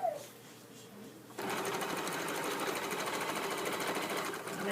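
After a quiet start, a sewing machine kicks in and hums steadily at close range, stitching around a wool soaker in one continuous run without any voices.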